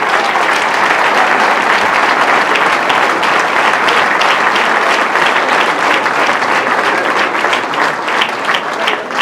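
Dense, loud applause from an audience at a Villeneuve-le-Roi New Year's greetings ceremony, a sustained wash of many hands clapping that holds steady for the whole stretch with only faint voices beneath.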